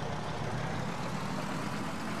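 Ural towing tractor engine idling in the ARMA II game, heard from inside the engine compartment as a steady, low, rumbling drone throughout.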